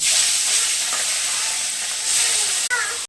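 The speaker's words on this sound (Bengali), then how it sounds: "আদা জিরে পাকা লঙ্কা এগুলো ভালো করে ভেজে নেব" Ginger, cumin and red chillies fry in hot oil with a loud, continuous hissing sizzle that swells slightly and breaks off briefly near the end.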